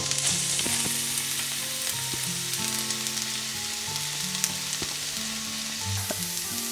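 Garlic fries in hot olive oil with a loud, continuous crackling sizzle, close up and steady, and faint tonal ringing underneath.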